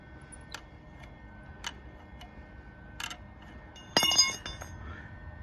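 Wrench working on an engine bolt of a 1976 Chevrolet K30 military truck during an LS engine swap, sparse metallic ticks and clinks close by, ending in a brief louder rattle of metal on metal, with no talking.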